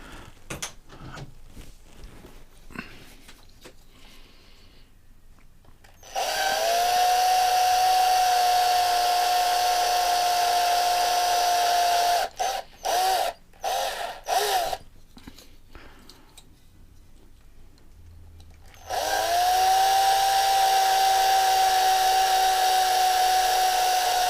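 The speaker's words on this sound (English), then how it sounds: "So let me get the drill in here." A power drill whirs in two long, steady bursts with short stuttering pulses between, loud and close, separated by quiet handling noises, while taking apart a Matchbox cattle truck toy.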